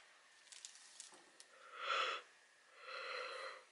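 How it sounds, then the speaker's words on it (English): A person yawns twice in a very quiet library, each long breathy, drawn-out exhale rising and fading, the second softer and broader, with only faint room hush between. "They make me yawn because it's so quiet."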